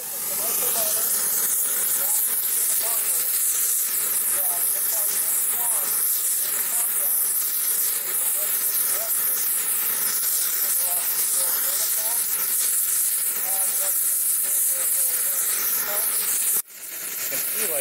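Oxyacetylene torch flame blasting onto a phenolic resin and cotton sample, a loud continuous roaring hiss lasting throughout, with faint voices under it and a brief drop just before the end.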